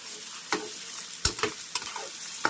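Onions frying in a pan for paneer bhurji, a soft steady sizzle broken by several sharp scraping stir strokes of a spatula, close up and with no talking.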